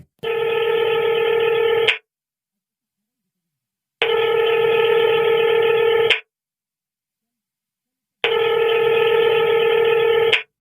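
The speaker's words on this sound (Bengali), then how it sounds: "আরেকবার ফোন করলাম মৌকে।" In an audio story, a telephone rings through to the other end: three long, loud electronic ring tones, evenly spaced with silent gaps, and no other sound.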